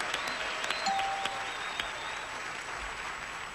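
Studio audience applauding on a 1981 NBC daytime game show. A short burst of clapping fills the room and fades out, with a faint electronic tone and no talk.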